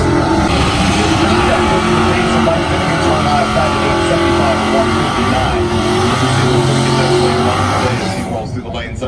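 A drag race car at Drag Week 2019 charging down the strip, shaking its tire and going a little sideways, its engine a loud, steady roar with tire noise, under continuous commentary that fades at the end.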